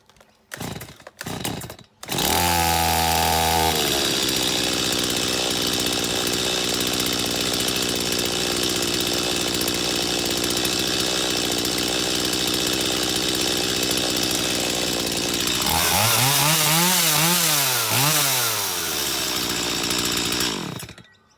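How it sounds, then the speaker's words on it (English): Several rapid pull-cord yanks before a Stihl chainsaw roars to life and idles loudly up close, then revs up and down a few times near the end. "we'll pull it until it starts"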